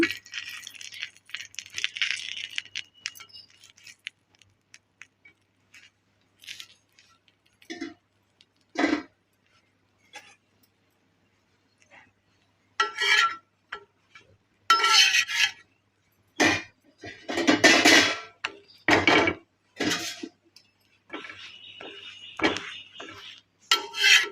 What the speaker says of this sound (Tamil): இந்த தோசைக்கல்லை வச்சு அதில் கொஞ்சமாக நெய்யை அப்ளை பண்ணிக்கிங்க